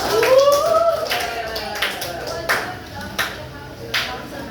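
Classroom of students clapping hands, a short burst of scattered claps after a voice speaks, then several separate, fairly faint claps spaced out irregularly over a few seconds.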